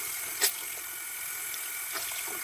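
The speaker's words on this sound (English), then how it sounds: "I'm gonna go in and just kind of rinse this with water." Tap water runs steadily into a sink as a beauty blender sponge is rinsed, with a steady wash of flow and a couple of brief splashes or knocks.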